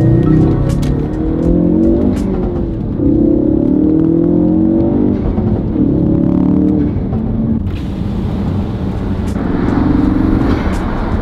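A Ford Focus RS/ST with an aftermarket intake pulls hard nearby, its engine note rising and falling through gears, with sharp turbo whooshes and flutters between shifts, loud and continuous.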